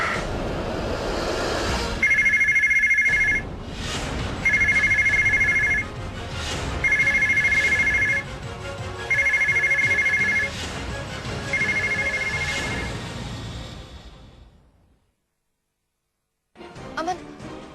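A telephone rings back after a number is dialed, five evenly spaced ring bursts over a steady background hum, then a pause before other sound returns.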